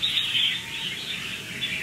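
A red-whiskered bulbul sings continuously at close range, a bright, steady run of chirping whistles with no pauses and no talk.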